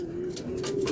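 Racing pigeon just back from a derby race giving a single sustained low coo, close and steady, with rustling or handling sounds around it.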